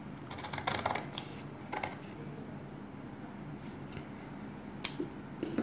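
Scissors snip through paper or fabric along a traced straight skirt pattern, giving soft irregular cuts and rustles close by at low level, with no talking.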